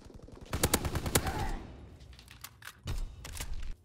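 Gunfire rattles out during a Call of Duty WW2 multiplayer match: a quick burst of sharp automatic shots, a short pause, then more scattered shots and a second burst, fairly close.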